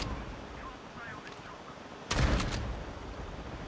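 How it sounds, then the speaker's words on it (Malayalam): A short burst of gunfire from the video game Call of Duty Mobile erupts partway through, loud and sharp, over a low background game hum. "ഞാൻ ഇവിടെ വെടിവെച്ച് പഠിച്ചോണ്ടിരിക്കുകയാണ്."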